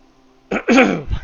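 A single hoarse cough or throat-clear from a man with a sore voice, close to the microphone, a short rough burst followed by a softer tail, with nothing else around it.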